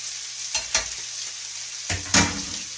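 Bacon being stirred in a frying pan, with a steady sizzle and a few scraping stirs of the utensil against the pan.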